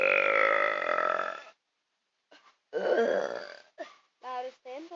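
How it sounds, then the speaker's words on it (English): Loud, drawn-out burps in a burping contest: one long sustained belch, then a pause and several shorter, guttural burps in quick succession, close and alone. "I'm pretty sure you can't burp louder than this."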